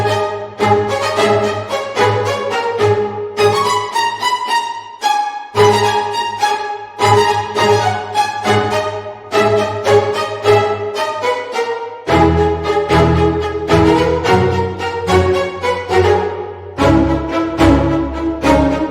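Lush sampled orchestral strings from the Strezov Sampling Afflatus Chapter I library play a continuous flowing passage with sustained bass notes underneath, rich and reverberant throughout.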